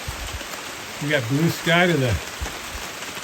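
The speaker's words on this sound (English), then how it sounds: "A little bit of rain." Steady rain patters across the ground in a desert canyon in the Superstition Mountains of Arizona, a constant close hiss under someone talking.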